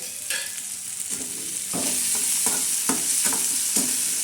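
Cabbage fries in a pan with a cumin and green chili thecha, giving a continuous sizzle punctuated by regular scraping stirs of a spatula, close and fairly loud, with no talking.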